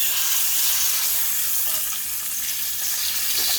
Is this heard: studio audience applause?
no